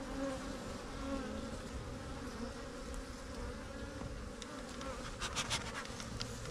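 Dense swarm of honeybees humming steadily around a hive being readied for almond pollination, a close, continuous drone with a few sharper passes of individual bees near the end.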